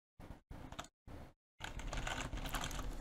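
Short bursts of keyboard typing, broken by brief silences, then a longer stretch of steady clattering keys, close and fairly loud.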